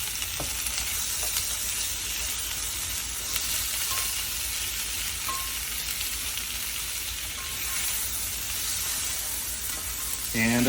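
Onions fry in oil in a pan, with a bright, dense sizzle and hiss that is continuous and close, with light stirring and a louder burst at the very end.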